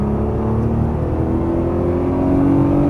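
A Nissan GTR engine revs under throttle on a track, a loud, steady drone that rises in pitch as the car accelerates, heard up close with no talk.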